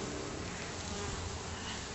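Dense, steady buzzing of many honey bees crowding a full top bar barrel hive during an inspection, a loud, continuous close-up drone with no pauses and no voices.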